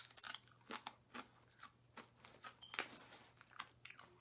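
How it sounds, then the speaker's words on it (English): A sturdy, crisp Zapp's mesquite barbecue potato chip is bitten and chewed close up, giving a run of sharp, rhythmic crunches that repeat steadily and quietly, with no talking. "You get a lot of crunch when you bite into it."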